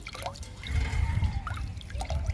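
Leftover water from washing rice and moong dal being poured out, a steady close trickle and splash running for a couple of seconds.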